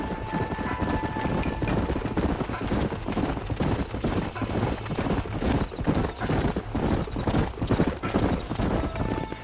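Horses galloping across open country in the Red Dead Redemption video game, hooves beating in a steady, rapid clip-clop rhythm that stays loud and close throughout, with a brief whinny near the start and a faint mechanical rattle beneath.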